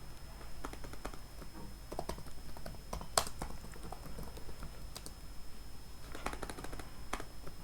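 Someone types on a computer keyboard, a steady patter of quiet clicking keystrokes heard close up, with occasional louder taps and short pauses between bursts.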